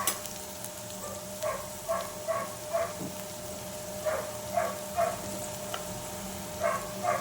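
Onions sautéing with turmeric powder in a pan, a soft steady sizzle broken by repeated rhythmic stirring scrapes, fairly quiet and close.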